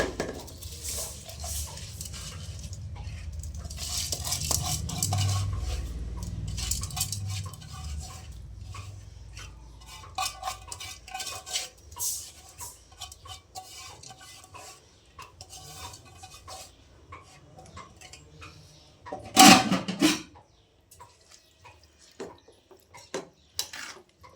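Basmati rice for chicken biryani stirred gently in a pot: soft scraping and light clinks of a spoon against the pot, with one sharper clatter near the end and no voices.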